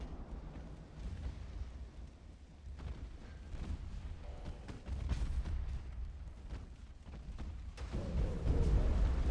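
A torpedo striking a ship in the naval game Ultimate Admiral: Dreadnoughts, heard as deep rumbling explosions and booms swelling over a continuous low roar of engines and sea, with heavier blasts toward the end.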